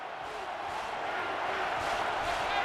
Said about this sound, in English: Crowd is chanting defense.